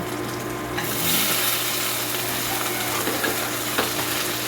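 Onion dropped into a pan with garlic for sarsyado, bursting into a louder sizzle after a quieter start, then frying steadily with faint scraping under a low background hum.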